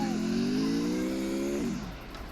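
Video game car in a battle royale match, its engine holding a steady, loud droning tone before the pitch sags and the sound fades as it slows.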